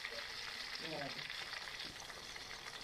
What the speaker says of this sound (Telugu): చూడండి ఎంత నిదానంగా ఫ్రై చేసుకోవాలి.